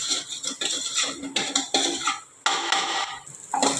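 Rice masala with chilli and turmeric powder being sautéed in a pan for egg rice, with a spatula repeatedly scraping and clinking against the metal in quick, uneven strokes close up.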